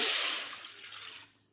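A glass of water splashes into a pan for sugar syrup, starting as a loud rushing pour that quickly tapers off, close and brief.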